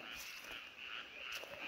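Frogs croak continuously in a remote mountain valley beside planted fields, a steady dense chorus with no voices over it.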